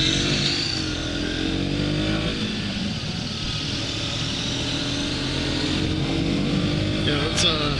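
A 2022 KTM 200 Duke motorcycle creeping along at walking pace, its engine holding a steady low drone with a slight rise in revs near the end, loud and close with wind noise.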